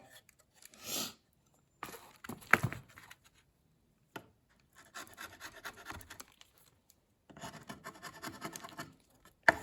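Bursts of rough scraping as propolis is scraped off a wooden honeycomb frame, in several separate strokes with short pauses between them, close and fairly quiet, with gritty rasping textures.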